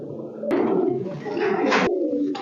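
Several old-breed giribaz pigeons coo at close range, a busy low murmur of overlapping calls with rustling bursts in between.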